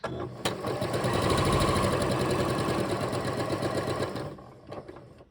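A sewing machine runs a straight stitch to test thread tension, giving a steady, close, loud mechanical whir with fast rhythmic needle chatter for about four seconds, then stopping with a click.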